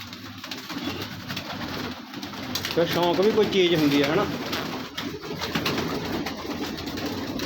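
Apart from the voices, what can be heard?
pigeons cooing in a loft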